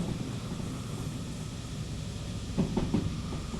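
Rolling stock on an incline in the Derail Valley train game, a museum S060 locomotive hauling cars from an iron mine, gives a steady rumbling roll with a few faint brake knocks near the end, and no one speaks.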